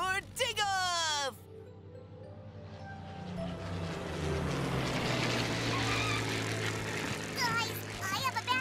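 A cartoon toy airplane revs up and takes off, its engine and propeller droning and building into a loud sustained whir after a character speaks, with more voices briefly at the end.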